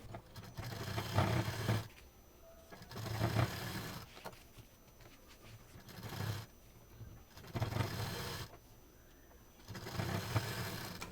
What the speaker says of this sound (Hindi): इसको हम अंदर रखेंगे और सिल देंगे।